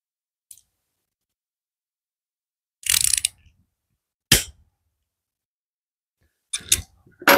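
Ratcheting and clicking from tightening bolts on a Husqvarna lawn mower under repair for backfiring, heard as three or four short bursts separated by silence, fairly close.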